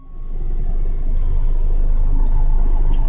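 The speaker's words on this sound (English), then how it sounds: "We're rolling backwards up the hill." A car in neutral rolls backwards up a hill beside a tree, giving a steady low road rumble and faint engine hum that builds slightly in the first half second and then holds even.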